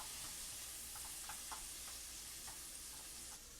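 Chicken curry with pepper sautéing in a pan, a soft steady sizzle and hiss with light stirring scrapes and clinks, faint and continuous, no talking.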